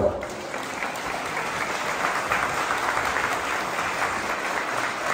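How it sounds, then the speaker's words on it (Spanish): Guests at a wedding ceremony break into sustained applause right after the couple's kiss, a dense, steady wash of clapping with faint crowd murmur underneath. "Y un aplauso, por favor."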